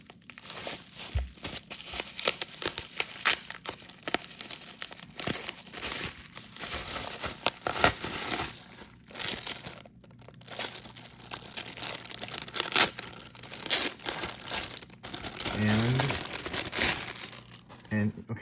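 Packaging for an SWC Trench Oxidize 38mm titanium watch being unwrapped up close, with loud continuous crinkling and tearing of paper and plastic running throughout.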